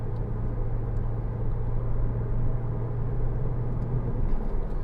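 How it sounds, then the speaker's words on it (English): A 2011 Porsche Cayman 987 with the 2.9 engine hums steadily from inside the cabin while driving, a low continuous drone with road rumble and no talking. "just to listen to that engine note."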